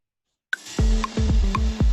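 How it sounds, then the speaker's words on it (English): An Ableton metronome ticks in sharp, bright clicks set half a beat off a playing track, so they fall between its deep, punchy kick hits. The mix is close and steady, with no voices. "can you hear that the metronome sounds kind of nice because it's exactly half a beat off"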